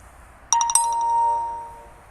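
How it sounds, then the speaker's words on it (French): A mobile phone rings at night in a park with a short bright chiming melody, several quick tones and then a sustained ringing note that slowly fades, over a low background hum. "Je suis désolé si vous entendez le portable"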